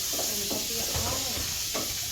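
Pork and garlic fry in a pan, giving off a continuous bright sizzle and hiss while voices talk over the cooking.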